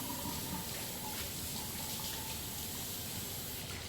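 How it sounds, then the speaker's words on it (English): Running tap water flows steadily over hands being washed at a kitchen sink, a continuous close splashing rush with no speech. "let me wash my hands"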